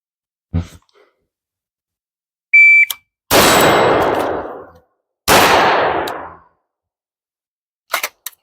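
Rifle and handgun shots fired in a shooting transition drill: a beep timer, then two loud, sharp shots about two seconds apart, each ringing out in a long echoing decay, with quiet between.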